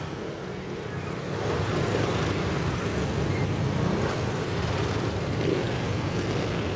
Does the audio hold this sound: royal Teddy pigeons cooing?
no